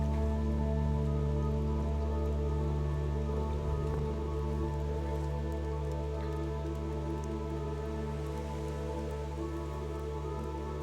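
Steady video game rain hissing continuously over a low droning background, with a constant, unchanging texture and no voices throughout.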